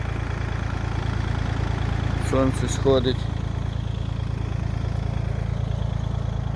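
A tractor engine runs steadily in a field at dawn in spring, a constant low idling drone throughout, with a person briefly speaking over it.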